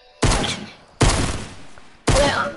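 Three heavy gunshots from the battle royale game Fortnite, each a loud sharp blast with a fading tail, spaced about a second apart with no talk over them.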